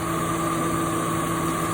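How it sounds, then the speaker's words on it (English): The V6 engine of a 2003 Ford Mustang idles with its AC compressor engaged, a steady, even hum with constant tonal drone and no variation over a short stretch. "the compressor's engaged and spinning well"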